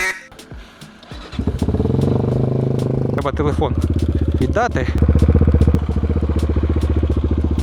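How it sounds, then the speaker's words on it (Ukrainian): A Kovi Max 300 motorcycle engine cranks and catches, then settles into a steady, loud close-up idle with a few throttle blips, while a person talks over it. "мотоцикл став працювати більш стабільніше"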